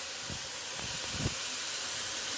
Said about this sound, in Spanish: Ahora lo que vamos a hacer es agregar lo que es la verdura. La vamos a sofreír ahí también.